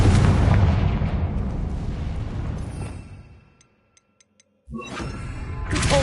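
Confringo fire spell blasting in Hogwarts Legacy, a loud roaring explosion that decays into near silence with a few faint ticks, then a second heavy burst of debris and rumble kicks in.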